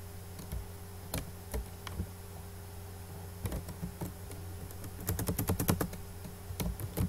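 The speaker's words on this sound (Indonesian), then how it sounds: "Saya ketikkan dulu seperti ini" Someone types a C++ code comment on a computer keyboard, with faint, close key taps arriving in scattered clusters and a quicker run of clicks near the end, over a low steady hum.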